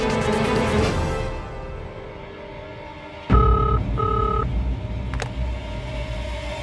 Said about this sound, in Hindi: घर पे करता हूँ फोन